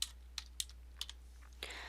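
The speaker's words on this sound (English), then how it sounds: "start typing in the name of your organization" Computer keyboard being typed on while entering an organization name into an online account form, a handful of quiet separate key clicks followed by a brief faster burst, close and alone over a low steady hum.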